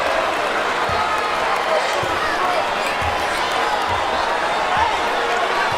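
A basketball arena crowd during a Cleveland Cavaliers versus Los Angeles Lakers summer league semifinal gives a loud, sustained roar, with sneaker squeaks and ball bounces beneath and a commentator talking over it.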